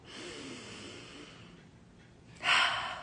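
A slow breath drawn in, soft and close, followed by a louder rushing exhale near the end.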